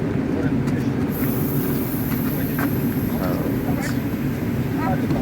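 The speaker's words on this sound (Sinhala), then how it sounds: "මෙන්න ට්‍රේන් එක මේ පැත්තෙන් යනවා, මේ පැත්තෙන් ආවා, මෙහෙන් ගියා." A train rumbles past at Žiar nad Hronom station in Slovakia, a continuous loud low roar with clattering and squeaks throughout, while someone talks over it nearby.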